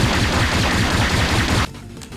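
A Gatling barrage attack in the video game Anime Saga, a loud, dense stream of rapid-fire gun hits pounding in fast rhythm, then abruptly cutting off near the end.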